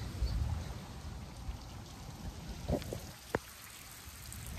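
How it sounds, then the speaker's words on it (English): A lawn sprinkler spraying water onto a parked camper van, heard as a faint, steady pattering hiss like light rain on the body and window, with a few soft taps and no talk. "There's a sprinkler pointed directly at my van."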